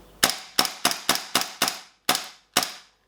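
Empty WE P38 gas blowback airsoft pistol dry-fired on gas alone: eight sharp metallic snaps, six in a quick run then two more after a brief pause, close and crisp with no talking.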